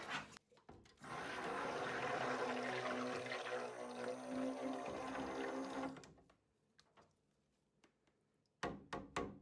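Soap-making oils are stirred in a container, a sustained scraping, swishing rub for several seconds that then stops, followed by quiet and a few sharp knocks.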